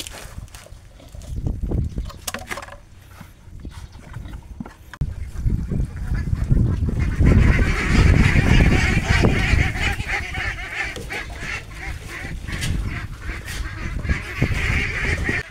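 Six-week-old ducklings call out together on a farm, with a dense, overlapping chorus of honking quacks that grows louder and more continuous halfway through, recorded up close.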